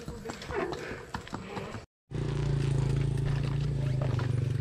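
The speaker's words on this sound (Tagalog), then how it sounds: "Kabayo pala talaga dumadaan dito." Horse hooves clip-clopping on a road in Laurel, Batangas, a steady run of hoof strikes, followed after a brief gap by a louder, closer, rhythmic clatter with a low rumbling beneath.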